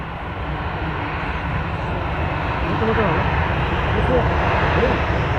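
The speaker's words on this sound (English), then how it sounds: "737-800 outbound is on its way to Copenhagen." A Boeing 737-800 jet departing outbound from Manchester Airport runway 05L, a steady distant engine roar that swells gently as it climbs away, heard alone.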